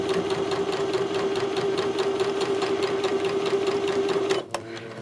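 A sewing machine stitches fabric pieces of a hat together, running steadily and loud with a fast, even needle rhythm for about four seconds before stopping abruptly.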